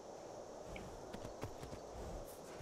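Horse hooves clip-clopping in the video game Skyrim, a short run of soft, close hoof strikes in an uneven walking rhythm, faint and alone.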